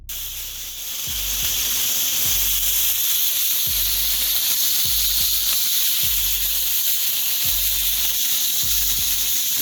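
Ribeye steaks sear on a Blackstone griddle with a loud, steady hiss and sizzle, and low thumps recur every second or so beneath it, with no talking.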